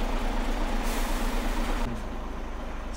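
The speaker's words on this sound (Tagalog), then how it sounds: "truck and trailer" A truck and trailer pulls into a fuel station with a loud, steady diesel rumble and broadband hiss, then a sudden drop in noise like a brake release, with no voices.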